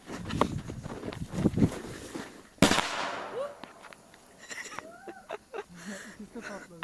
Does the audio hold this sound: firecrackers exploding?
yes